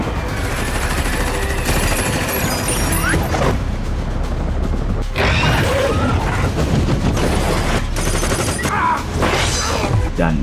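Dense bursts of automatic gunfire mixed with booming blasts as shots strike a store of explosives in a Venom action film, loud and chaotic throughout, layered with heavy impacts and crashes.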